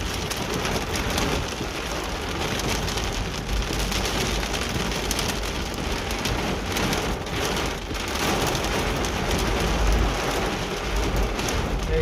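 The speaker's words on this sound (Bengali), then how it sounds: "সৌদি আরব রিয়াদে প্রচণ্ড বৃষ্টি হইতে আছে।" Heavy rain pours down in Riyadh, Saudi Arabia, a dense, steady hiss of rainfall with low thunder rumbling underneath throughout, with no voices.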